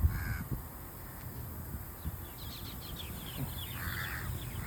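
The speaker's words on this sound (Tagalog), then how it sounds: "Daming mga uwak." Crows caw from the trees at a waterfront corniche with a small lake, several harsh calls scattered across moderate outdoor ambience, some nearer and some farther off.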